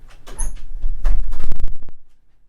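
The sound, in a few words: door being opened in a studio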